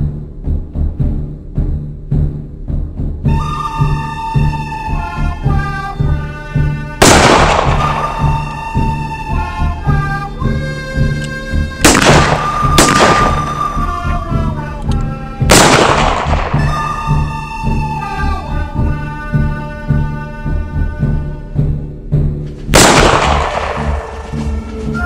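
Black powder revolvers fired outdoors, several loud, widely spaced booming shots ringing out over steady background music.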